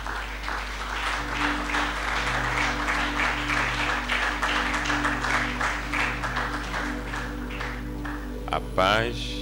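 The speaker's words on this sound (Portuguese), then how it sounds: "Salva de palmas para o Senhor Jesus." Congregation clapping for Jesus during a Sunday worship service at church, steady dense applause running throughout over a sustained low hum, with voices mixed in and a brief louder burst near the end.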